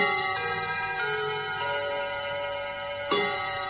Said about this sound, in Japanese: 右側の家の時計の音はバカでかくて派手ですな。